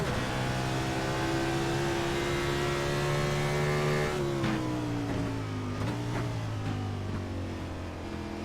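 Race car number 42 recorded from the cockpit on the Watkins Glen straightaway, the engine a loud, steady, continuous drone held at high revs, with a slight pitch drop partway through and no talk.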